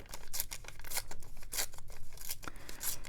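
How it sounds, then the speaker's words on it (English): A dictionary page torn by hand with the fingers for collage: a series of short, crisp paper rips in quick, uneven succession, close and clear with no talk. "I'm going to go ahead and just tear it with my fingers."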